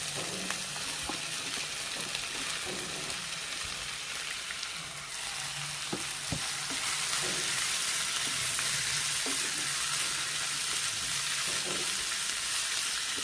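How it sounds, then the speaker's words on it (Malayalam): Onions and crushed green chillies sautéing in a pan for a dry soya chunks fry, making a steady, loud close sizzle with occasional stirring clicks and scrapes throughout, no speech. "ഇതെല്ലാം കൂടി നന്നായിട്ട് വഴറ്റി കൊടുക്കാം"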